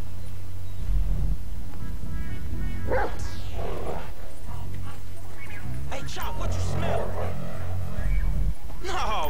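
A dog barking in the video game GTA 5, several loud barks and yips with whimpers, mixed with game sounds and someone talking over them.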